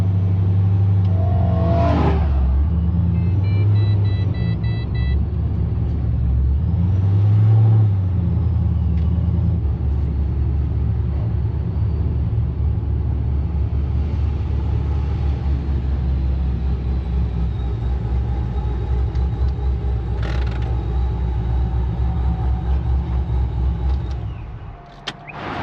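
A supercharged Pontiac GTO running on E85 drives along a road, its loud, deep engine rumble steady throughout with brief surges of revving and a rising whine, fading out at the end.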